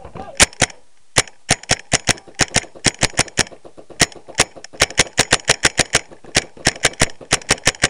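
Rapid volleys of paintball shots and balls smacking a wall during a paintball game, sharp cracking pops in irregular bursts, close and loud, with brief pauses between strings.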